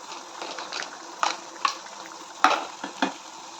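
A Kerala-style clam roast with a couple of handfuls of coconut pieces simmers in a pan, a soft steady bubbling broken by several sharp metal clinks of a spoon against the pan.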